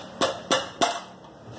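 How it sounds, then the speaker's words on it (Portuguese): A rubber mallet gives three sharp, evenly spaced taps on parts of a Taura tricycle kit during assembly. The knocks are close and crisp, with a brief ring after each and no talking. "Pegar um martelinho de borracha para dar umas porradinhas."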